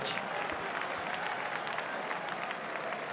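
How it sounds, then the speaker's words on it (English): The crowd at a Roland Garros 2012 semifinal between Djokovic and Federer gives a faint, thin ripple of applause on the clay court, soft and distant, with a hint of voices mixed in. "Barely a ripple of applause there for Djokovic breaking back."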